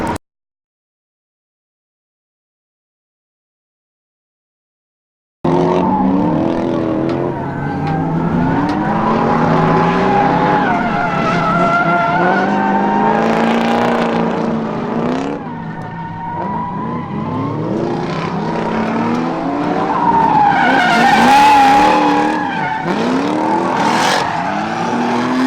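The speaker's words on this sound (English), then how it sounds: "let's go check out some drift action" Drift cars on a racetrack roar and rev hard for about twenty seconds after a brief silence, engine pitch rising and falling with long tire squeals and skids in a loud, continuous run.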